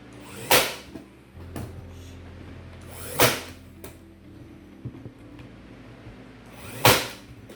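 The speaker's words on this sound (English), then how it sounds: "I'm going to come in with the nail gun above where the screw holes are" A nail gun drives nails into pallet wood in three sharp, loud cracks spaced a few seconds apart, with faint handling knocks and shuffling between the shots.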